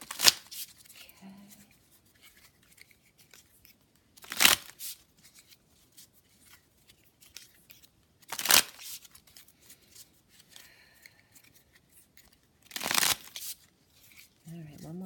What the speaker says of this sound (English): one more shuffle. This is for the Thoth deck.